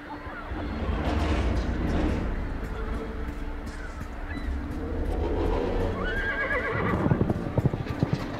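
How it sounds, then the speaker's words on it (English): A stallion neighs in the video game Argonus and the Gods of Stone, a whinny over hoof clatter and ambient layers, with a goose-like honking cry near the end. "Whether spooked or merely provoked, the stallion launches itself from the cliffside"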